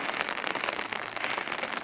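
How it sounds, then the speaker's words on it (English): Steady rain on a wet day in the Austrian mountains, a dense hiss of drops pattering across surfaces with no pauses, close and even throughout. "on the third day it was kind of Rainy day."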